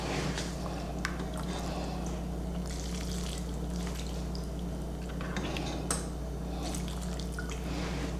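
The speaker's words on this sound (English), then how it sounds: "I'm going to add just a little bit more of the broth" Chicken broth trickles and drips into moist holiday stuffing, a soft, close liquid patter running steadily over a low background hum.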